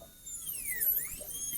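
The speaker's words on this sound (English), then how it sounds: "So drill a hole, cut this way, drill a hole, cut this way." A high-speed dental drill whines as it cuts a class II tooth preparation in a dentistry teaching session, a close, piercing tone that sweeps up and down in pitch as the bur is worked.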